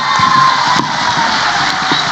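Students at a school talk gathering clap and cheer together, a loud, close, continuous burst of crowd noise with shouts mixed into the clapping over a couple of seconds.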